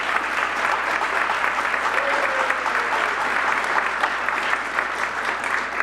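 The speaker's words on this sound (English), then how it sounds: "If you could stand, Dr. Linke, please give him a round of applause." Sustained applause from an audience at a governor's economic growth announcement, steady and dense for the full stretch, with a faint voice briefly audible underneath.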